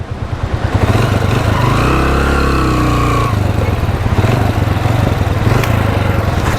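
A motorcycle engine labours loudly and close up the steep, rough Ratti Gali Lake track in Neelum Valley, Azad Kashmir, droning steadily with a strained rising whine before settling back into a hard, throbbing pull.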